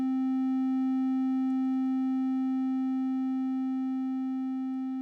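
A synthesizer holds a steady triangle-like wave tone, a single unbroken pitch with faint overtones that make it brighter than a pure sine, fading slightly toward the end.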